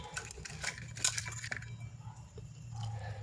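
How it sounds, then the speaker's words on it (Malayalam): Shallots, garlic and green chilli are crushed together in a pounding, crunching burst of quick close strikes, then a softer stretch follows. "അപ്പോൾ അതൊക്കെ ഒന്ന് ചതച്ച് കൊടുക്കട്ടെ."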